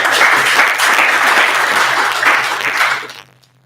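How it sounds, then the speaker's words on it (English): Loud, close round of applause from a conference audience after a presentation, steady dense clapping for about three seconds before tapering off abruptly. "Please, a round of applause for a great presentation"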